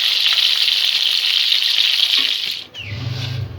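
Prawns fry lightly in oil with a loud, close, continuous sizzle that briefly dips near the end as a utensil clinks against the pan.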